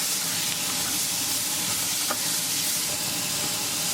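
Frozen sweet peas fry in a pan while being stirred for matar paneer bhurji, a steady loud sizzle and hiss throughout with faint scraping of the spoon, close up and without talk.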